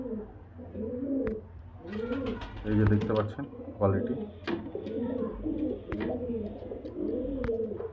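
Male pigeons, high-flying Giribaz birds kept for sale, coo in a repeated rolling rhythm close by while someone talks over them throughout.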